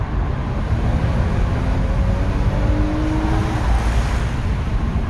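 A Lexus GS 350 pulls away after a cold start, its engine droning loud and steady and close for the whole stretch, with no talking over it.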